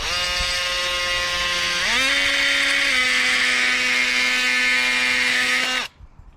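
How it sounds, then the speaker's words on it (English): An oscillating multi-tool cutting off leftover welding slag from a garden fence frame, a loud close whining buzz that shifts pitch slightly partway through, runs continuously for about six seconds and then cuts off abruptly. "I've been taking my oscillator and just getting that shit out of here."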